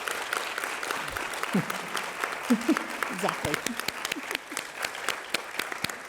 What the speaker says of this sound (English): I think you ought to give her a round of applause